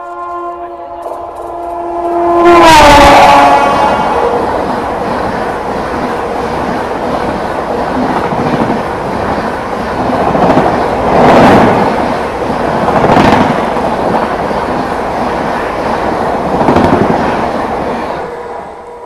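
A long train passes close by while overtaking another train on the Kanpur to Delhi line in North India, with a loud horn blast near the start, then a sustained rumbling roar and clatter of railcars with further swells.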